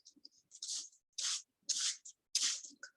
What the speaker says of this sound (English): spray the mixture with a little bit of warm water and a spray bottle